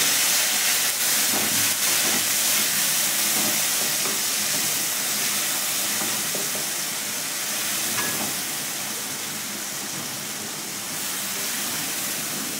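Tomato and green chili paste with ginger fries in a pan for Bengali alur dom, giving a steady, even sizzling hiss that eases slightly toward the end.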